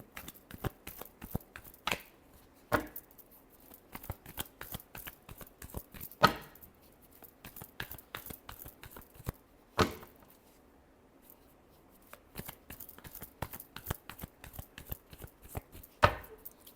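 Tarot cards shuffled by hand during a Taurus reading, heard as a steady run of soft riffling flutters broken by several sharper slaps and snaps of the deck, close and fairly quiet with no talking.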